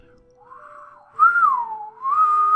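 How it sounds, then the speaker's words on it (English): A novice whistler produces a thin, wavering whistle, starting faint and rising into louder sustained tones that slide up and down, alone with no talking. "I just learned how to whistle, by the way, like 2 days ago"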